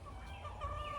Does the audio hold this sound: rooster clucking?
yes